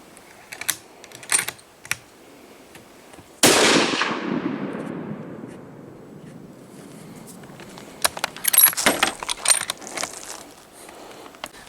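A single loud rifle shot from a Thompson 7mm Magnum on a sight-in range cracks sharply and rolls into a long fading echo, with scattered clicks and handling noises before and after.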